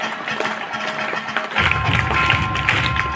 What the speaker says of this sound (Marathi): सर्वांनी जोरदार टाळ्या वाजवायच्या या विद्यार्थ्यांसाठी